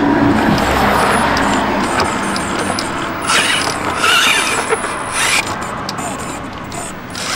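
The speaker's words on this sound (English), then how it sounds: "I'm going to test the servo" A Torq TCM-1022 micro servo runs under test, giving off a close, busy whirring and gear-chattering buzz that pulses and shifts in strength as it strains against a wedged load.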